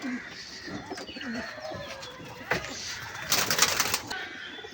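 A male Giribaz pigeon coos softly in low, rolling murmurs, with faint background noise and a brief flutter near the end.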